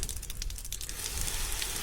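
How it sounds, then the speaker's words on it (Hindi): Water gushing out of an RO water filter, a dense, loud continuous hiss and splash that stays steady throughout without any talking. "बढ़िया तरीके से निकल रहा है पानी"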